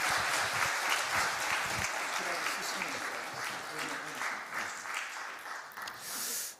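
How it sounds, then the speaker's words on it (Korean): A church congregation at a family worship seminar applauds to welcome the pastor, a continuous, moderately distant wash of clapping that fills the whole span, with a voice faintly underneath. "우리 신형서 목사님을 박수로 한번 초대하겠습니다"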